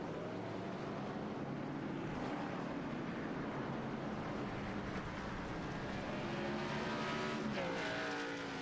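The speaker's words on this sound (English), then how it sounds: "Your race winner getting a congratulatory spin by the 18 of Jeremy Root." Race car engines drone steadily in the eSpeed Sport racing game at Indianapolis, a dense continuous roar of several cars with shifting pitch, moderately loud and unbroken throughout with no talk.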